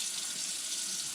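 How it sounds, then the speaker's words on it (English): A Moen smart kitchen faucet runs water into the sink in a steady, even hiss with no other sounds, fairly quiet and close. "Alexa, tell Moen to turn on the faucet."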